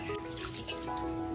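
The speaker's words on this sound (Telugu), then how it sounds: "రైస్ని ఒకసారి కడుగుదాము." Rice rinsed by hand in a pot of water before cooking mutton dum biryani, soft close sloshing, dripping and squishing with no talk.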